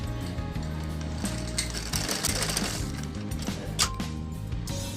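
A sewing machine stitches a kurti tunic with a rapid, continuous mechanical chatter, a steady rhythmic clatter running close and loud throughout.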